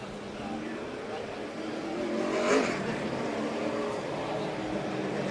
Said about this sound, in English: Car's about to roll out here on the track.